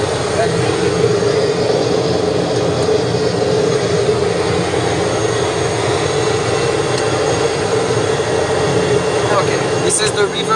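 A Piper PA-46T Meridian turboprop engine hums and whines steadily in the cockpit during a reverse lockout test, a constant loud drone with a voice talking over it.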